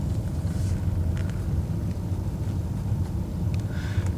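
A BMW E39 5 Series with an ABS fault driving along, heard from inside as a steady low road and engine rumble with faint wind noise throughout.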